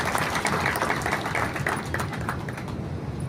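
At the inauguration of the Lions Samata blood centre in Kopargaon, a crowd claps loudly for the Lions and Samata organisers, a dense, even burst of applause from many hands, close and sustained for several seconds.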